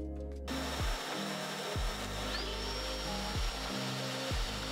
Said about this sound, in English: Once I've clamped the jig and attached the vacuum, I can begin to start routing.